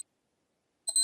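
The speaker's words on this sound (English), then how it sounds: "watch on my desk and it's the alarm's going off" A wristwatch alarm on a desk starts beeping, a short high-pitched electronic chirp after a near-silent stretch, with a tiny blip at the very start.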